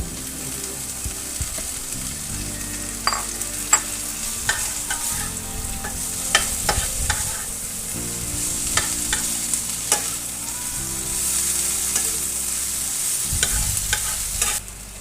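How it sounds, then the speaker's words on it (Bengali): Leafy greens with coriander leaves, ginger paste and jackfruit seeds fry in a pan over low flame, with a steady close sizzle and repeated scraping stirs of a spatula. "শাকটা সিদ্ধ হওয়া পর্যন্ত একদম লো ফ্লেমে রেখেছি"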